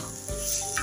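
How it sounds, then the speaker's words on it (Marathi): Bitter gourd masala frying in hot oil for a spicy vegetarian dish, giving a steady close sizzle that thickens partway through, with no voices. "आता हे सर्व कारलं मसाला ह्या तेलामध्ये चांगला खरपूस भाजला गेला पाहिजे"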